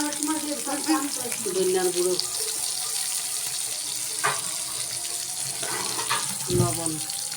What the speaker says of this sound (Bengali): জল দিয়ে কষিয়ে নেব জল দিয়ে দিলাম